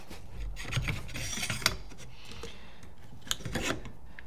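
A paintball barrel adapter dropped and seated into a Tiberius Arms T15 marker gives close, dry scraping and rasping metal-on-metal rubs, with a couple of sharp clicks near the middle and again later.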